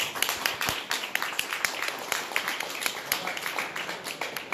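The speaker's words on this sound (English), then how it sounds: "So can y'all please give a round of applause." A small audience applauds a candidate at an evening fundraiser with scattered, fairly quiet clapping, individual hand claps sharp and irregular throughout.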